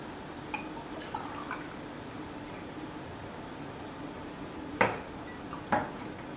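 Aam panna, a mango drink, trickles into a glass over ice, with soft pouring and a few distinct clinks and splashes of ice against glass near the end, quiet and close with no speech.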